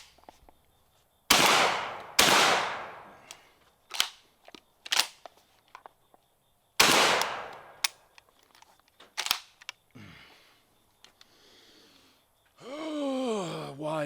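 Loud, sharp shotgun blasts from a Turkish-made Benelli M4 clone semi-auto shotgun, a few close reports spaced irregularly with metallic clicks between them, ending in a rising whine.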